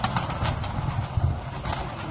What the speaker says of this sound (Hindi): तो देख लें ज़बरदस्त कबूतर हैं